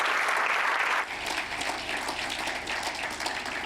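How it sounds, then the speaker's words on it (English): An audience at a live talk breaks into dense, steady applause, loudest for the first second before settling to a slightly softer, sustained clapping that continues to the end. "Let's give him a round of applause for doing that."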